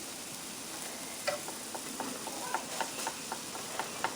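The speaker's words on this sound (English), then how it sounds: "I'm just going to put it in this skillet, and I'm going to sear it" A hoagie sears in a skillet, giving a steady, soft sizzle with scattered small ticks and pops, fairly quiet and close, with no talking.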